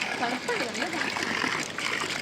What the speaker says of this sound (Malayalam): ഇതേതോ വെള്ളച്ചാട്ടത്തിൽ നിന്ന് ഒഴുകി വരുന്ന വെള്ളമാണ്.